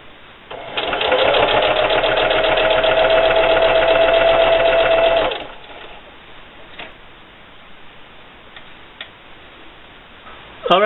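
Sewing machine stitching binding along the edge of a fabric tortilla warmer, a steady close whir of rapid needle strokes lasting about five seconds, then stopping to quiet handling sounds.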